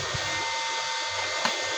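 A steady electric blower drones loudly throughout with a constant broadband whoosh and a faint hum, with a brief clack near the end.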